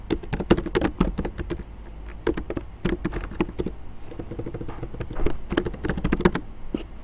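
Steady typing on a computer keyboard, quick clusters of light clicking keystrokes with short pauses between bursts, close and fairly quiet with no talking.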